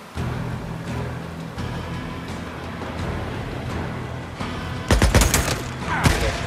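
Gunfire in the video game Days Gone, a sustained crackling firefight under background noise, then a few louder, closer shots near the end.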